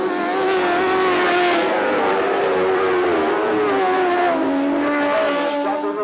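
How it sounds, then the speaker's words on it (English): Grasstrack racing motorcycles tearing down the back straight during a memorial trophy meeting, a loud continuous engine roar with rising and falling pitch as several bikes run close together, no talk heard over it. "Paul Whitelam's closing up on Rob Bradley going down that back straight."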